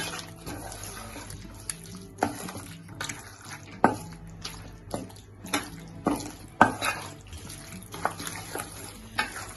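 Mutton dum biryani being stirred in a pot, with repeated close scraping and clattering strokes of a spoon against the metal, soft wet churning between them, at an uneven rhythm.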